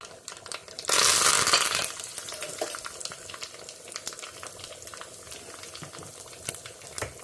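Mustard seeds and urad dal crackle and sizzle in hot oil in a small ladle, a loud hissing burst up close followed by steady spattering pops that fade into lighter crackling.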